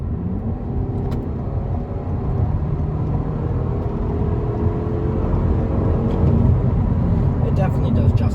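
A 2023/24 Toyota Camry SE in eco mode accelerates onto a freeway, a steady interior engine drone and road rumble rising gradually, with a voice talking over it.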